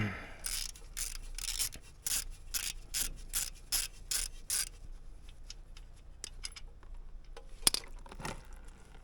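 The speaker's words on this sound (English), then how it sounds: "we're going to take our 12mm and our ratchet and locate the oil drain plug underneath here" A 12mm socket on a ratchet works the oil drain plug loose beneath the skid plate of a Yamaha XT250 motorcycle, giving a run of quick rasping clicks at close range, then scattered faint metallic ticks and taps.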